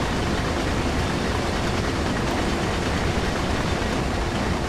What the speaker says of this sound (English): It's beginning to slow down now. I knocked it down to 4 on the gauge there, and it's slowly slowing the train down.